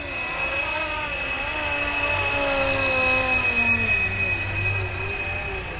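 A Flywing Bell 407 RC helicopter spools up and lifts off, its steady motor whine and rotor drone holding loud and close, with a high electric tone riding above a wavering lower hum.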